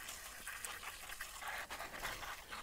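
Water rinses aphids off the tops of garden plants, a steady close spray and patter of liquid running for the whole stretch without breaks, with no talking.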